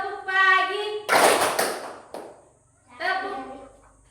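Children in a grade 5 classroom clapping hands in a rhythm game, a burst of sharp claps between stretches of children's chanting voices.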